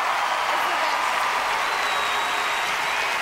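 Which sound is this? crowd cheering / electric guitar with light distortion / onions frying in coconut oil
crowd cheering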